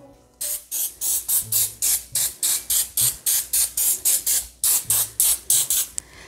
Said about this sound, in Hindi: मेरे पास स्प्रे है मैं थोड़ा सा नीचे स्प्रे कर रही हूँ